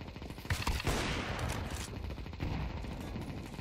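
An RPK machine gun firing in CS2, a loud, rapid burst of automatic shots with a few sharp cracks, followed by a dense run of fire that continues through the rest of the moment at steady volume.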